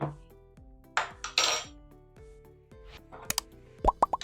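Spoonfuls of sugar tipped into a strawberry milkshake, a series of soft plops and spoon scrapes with a few sharp clinks of metal against the container toward the end.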